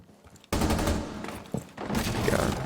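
Gunfire in Rainbow Six Siege, a player rushing in with a pistol: loud, dense shots burst in after a quiet half second, keep going as a sustained barrage, and briefly dip before firing resumes near the end.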